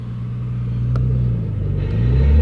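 A supercharged Infiniti G35 coupe with a Vortech supercharger and aftermarket exhaust rumbles loudly and close inside a tunnel, its engine note rising toward redline, with a brief sharp click partway through.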